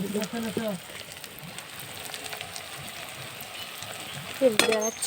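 Chilli, ginger and cumin paste frying in a pan, a continuous sizzle and crackle with a sharper hissing burst near the end; a voice talks briefly at the start.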